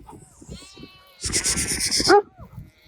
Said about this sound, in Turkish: Evet arkadaşlarım koyunları da Akkaraman cinsi koyunlar.